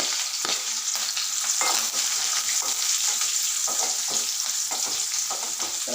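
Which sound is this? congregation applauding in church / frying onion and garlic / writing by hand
frying onion and garlic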